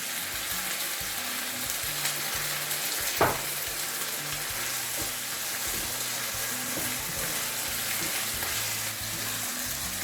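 Liquid poured into a hot pan of peppers and vegetables for restaurant-style pepper steak sauce sizzles steadily and loudly throughout, with a single brief clink partway through.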